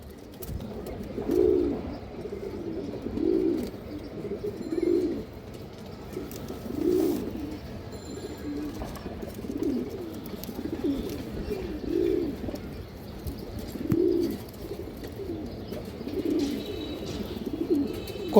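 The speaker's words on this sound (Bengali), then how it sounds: "এই যে কবুতর আপনারা দেখেন অনেকটা সিলভার স্টিলের কবুতর অনেক সুন্দর কবুতর" Silver-coloured domestic pigeons coo in a loft, repeated soft low coos at a steady rhythm, fairly close, with no speech over them.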